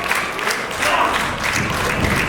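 A live wrestling crowd at a title match applauds and cheers steadily, a dense continuous roar of clapping and voices filling the arena.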